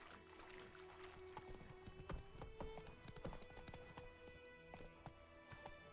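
Geralt's horse Roach gallops in The Witcher 3, its hooves beating a steady, rapid clip-clop close by over a low bed of game ambience and music.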